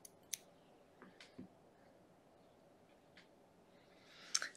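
Scissors snip off a crochet yarn tail, with a few faint, sharp clicks spaced apart against a quiet background.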